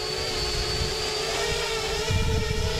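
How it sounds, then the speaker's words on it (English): A drone flying over water on a bluegill fishing outing, its steady high whine and droning hum continuous and fairly loud throughout, with a slight swell near the end. "The drone's working."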